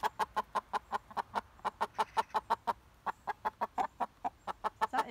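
A hen clucks its egg song in a quick, steady series of sharp repeated calls, fairly close, continuing without pause.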